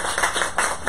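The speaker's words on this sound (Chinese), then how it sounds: "我们请大家拍拍手" An audience claps at the close of a lecture event, a brief burst of light, uneven handclaps at moderate distance.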